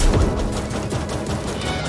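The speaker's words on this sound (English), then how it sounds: "I decided to just shoot him until he died" Rapid gunfire while shooting at a boss in the video game CrossCode, a dense, continuous fusillade of sharp shots at steady loudness with no speech.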